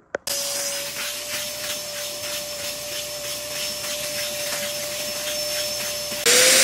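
Lidl spray extraction cleaner working over fabric dining chairs, a steady motor whine with a high tonal hum and rhythmic suction pulses, loud and close with no speech, ending in a sharper burst.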